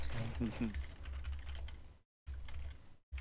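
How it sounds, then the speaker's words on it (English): Rapid, furious typing clatters on a computer keyboard, quiet and steady, while a person talks over it. The sound cuts out briefly near the end. "I hear Furious typing"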